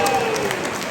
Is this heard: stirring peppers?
no